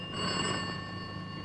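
A telephone bell rings with a sustained metallic tone and steady overtones over a low murmur of background sound, fairly quiet and without talk.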